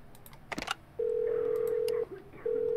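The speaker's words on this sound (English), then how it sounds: "Let's phone him." Telephone dialing in the video game Do Not Feed the Monkeys: a few quick clicks, then a loud steady tone, a brief break, and the tone resuming, with no talking.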